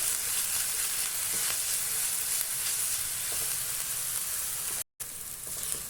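Food sizzles steadily in a hot pan as it is fried until reddish-brown, a dense, even hiss close by that cuts out for a split second near the end before resuming.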